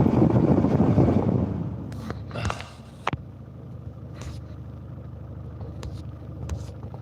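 Diesel van engine running, a rumbling drone that is loud at first then drops to a low steady idle, with scattered knocks and clicks over the top.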